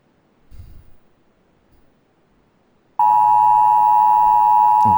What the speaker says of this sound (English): we're starting off strong with an EAS